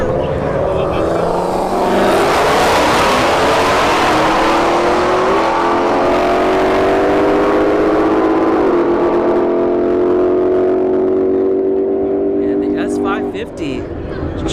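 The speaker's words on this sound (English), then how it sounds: "A Shelby GT500 in the right lane. And a Shelby GT, actually both Shelby GT500s." Two Ford Shelby GT500s, an S197 and an S550, launch side by side down a drag strip, engines roaring loud and sustained as they rise through the gears, with a public-address announcer talking over the run throughout.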